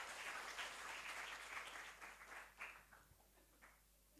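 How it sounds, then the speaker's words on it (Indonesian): Congregation in a church service applauding together, a dense wash of many hands clapping that swells loudly at first and then tapers off into scattered claps and near silence. "sambil duduk beri tepuk tangan dulu bagi Tuhan Yesus"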